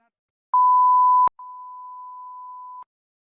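A phone line emits steady pure tones after a call is cut: one louder beep under a second, ending with a click, then a longer quieter tone, clean and close with no voices.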